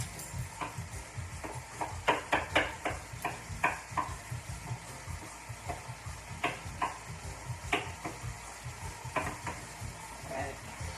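Garlic is minced with a knife on a cutting board, giving a steady series of crisp, close tapping chops of uneven spacing and moderate loudness.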